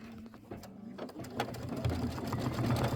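An embroidery sewing machine stitches the beak fill of a flamingo quilt block in pink thread, a close, steady mechanical whirring and needle clatter that speeds up and grows louder over a few seconds.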